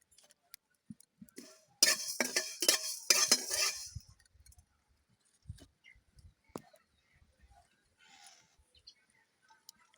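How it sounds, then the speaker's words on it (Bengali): Coriander seeds dry-frying in a karai as they are stirred, giving a dense burst of scraping and rattling for about two seconds, followed by scattered soft clicks and taps in a quiet kitchen. "প্রথমে ধনিয়া একটু ভেজে নিতে হবে।"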